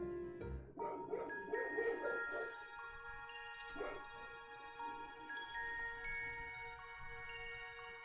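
A couple of pet dogs give short barks and yips early on, with one more later, faint against sustained video game music tones.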